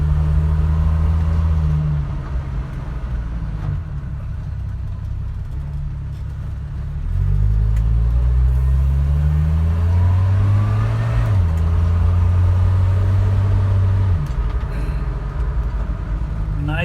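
A 1978 Dodge D100 pickup with a freshly rebuilt slant six engine and manual transmission, driving. The engine revs rise and fall through several gear changes, loud and close from inside the cab.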